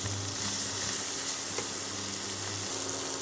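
Meat frying in oil in a pan with garlic and carrot as spaghetti sauce cooks, a steady loud sizzle and hiss with a faint scrape of stirring.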